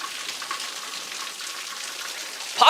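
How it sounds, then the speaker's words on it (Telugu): Heavy rain pours steadily during a storm in Hyderabad, a dense continuous hiss of falling water with no distinct thunder, holding even before a brief louder swell at the very end. "ఉరుములు మెరుపులతో కూడిన భారీ వర్షం పడుతోంది."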